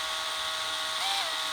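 A DeWalt cordless drill spins steadily on its lowest speed setting, driving a flare tool to form a tubing flare, a continuous whirring motor close by with a brief pitch rise near the end.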